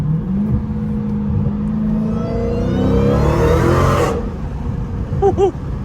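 A loud Dodge Hellcat engine revs in traffic, the pitch sweeping upward as it accelerates, then cutting off abruptly, followed by a few short sharp chirps and blips, heard close.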